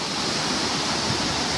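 Floodwater rushes down the Gravatá creek in Santana do Ipanema after a thunderstorm, a loud, steady, broadband roar heard from a bridge over the flow, with no voices.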